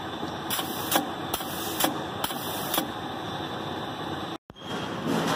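Rebuilt Fischbein bag sewing line with power in-feed, air-fed pusher and V-belt conveyor running, giving a steady mechanical hum with repeated rhythmic clacks and a brief cutoff near the end.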